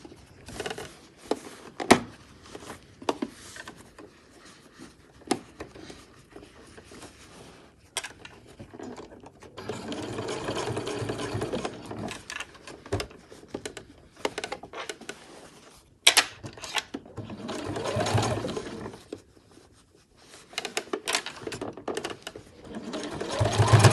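A sewing machine stitches binding onto a fabric backpack in irregular bursts, some brief and some longer runs, broken by pauses where the fabric is turned at a corner, with faint handling sounds in between.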